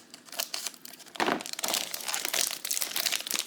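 Close crinkling and crunching of trading-card product packaging being cut open along the sides with scissors, a few sharp snips and tearing sounds, busy and continuous with no talking.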